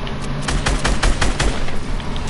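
Gunfire in the Fortnite video game: a quick run of sharp, close shots in uneven bursts over a low rumbling game background.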